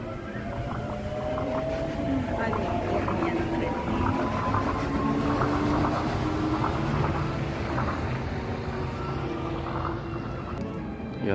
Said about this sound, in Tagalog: Tren ni Mickey Mouse.